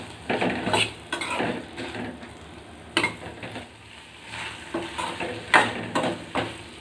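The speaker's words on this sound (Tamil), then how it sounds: "இந்த வெங்காயம் தக்காளியோட நான் கொஞ்சமாக தேங்காய் துண்டு சேர்த்துக்கிறேன். இதை நல்லா வதக்கி விட்டுக்கலாம்." Metal utensil scraping and clinking against a pan in repeated bursts, with a soft sizzle underneath as onion, tomato and coconut pieces are stirred and sautéed.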